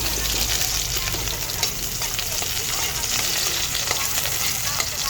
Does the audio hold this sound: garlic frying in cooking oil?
yes